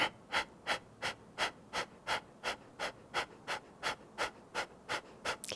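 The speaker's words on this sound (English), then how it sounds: "Continue your Kapalabhati breath." Kapalabhati yoga breathing is performed with a steady series of about fifteen short, forceful nasal exhales, evenly spaced around three per second, close and clear with no speech.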